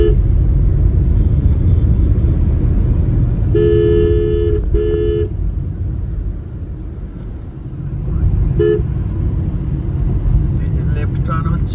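Busy road traffic with many motorbikes and cars as office hour approaches on the route from Digha toward Bhubaneswar, heard from inside a Tata Nexon: a steady loud rumble of engines, a couple of short horn toots, and talk over it.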